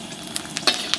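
Dried chili and ginger frying in hot oil in a wok, a short soft sizzle with a few faint crackling pops.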